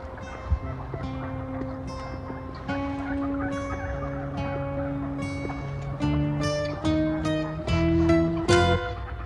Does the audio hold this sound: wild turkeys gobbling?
yes